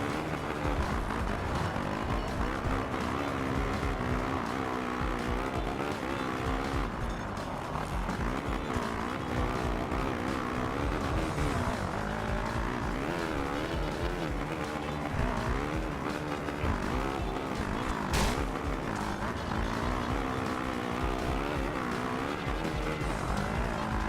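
Motocross bike engine in the MXGP 2 racing game, ridden on the Lommel track: a continuous loud revving drone rising and falling through gear changes for the whole stretch, with no voices over it.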